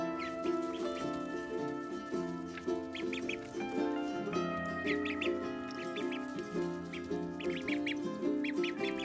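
Young ducklings, around eleven days old, peeping in shrill repeated bursts, several birds chirping together up close over a steady background hum.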